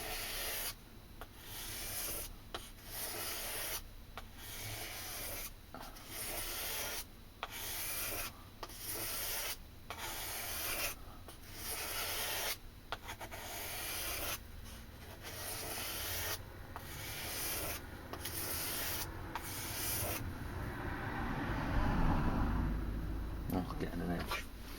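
A kitchen knife edge being sharpened on a stone: rhythmic scraping strokes repeat steadily for about twenty seconds, then give way to a softer, continuous rubbing near the end.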